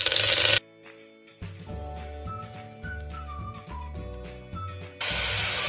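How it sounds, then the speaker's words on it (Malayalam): Curry leaves hit hot coconut oil with a loud, close crackling sizzle in a short burst at the start and again at the end, with soft background music in between. "ഇതിലോട്ട് കറിവേപ്പില ചേർത്ത് കൊടുക്കാം."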